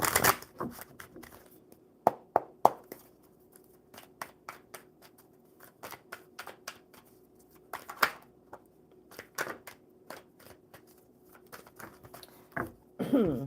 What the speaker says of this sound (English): One more good shuffle for Niche.